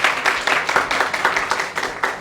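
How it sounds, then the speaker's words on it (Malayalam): Audience applause, a steady burst of many hands clapping throughout at close range, with no talking over it. "ഒരു കയ്യടി കൊടുക്കുക."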